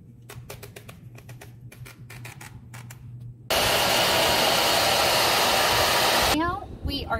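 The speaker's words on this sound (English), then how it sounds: "now we're going to start warming these side mirrors up and take off this double-sided tape." Hair dryer warming the side mirrors of a Tesla Model Y to loosen double-sided tape: a loud, steady blowing roar that starts abruptly midway and runs for about three seconds. Light tapping and clicking come before it, and the roar cuts off near the end.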